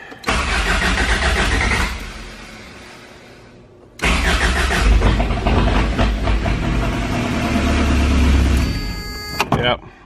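Toyota fitted with a swapped TDI diesel engine cranking and starting up, the loud rough engine sound dropping briefly before catching again and settling into a steady running note.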